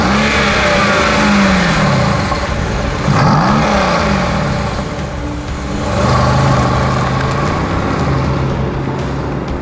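A 2016 Mercedes-AMG GT-S coupé engine revs loudly and close on a coastal road at Pebble Beach, its pitch climbing, dipping and climbing again as it accelerates. No one speaks.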